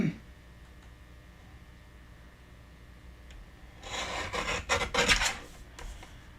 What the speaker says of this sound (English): so I'm trimming